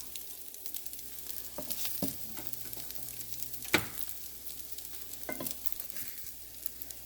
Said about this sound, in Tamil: அடுத்த பக்கம் பொரியட்டும் பொரிய விட்டு எடுக்கலாம்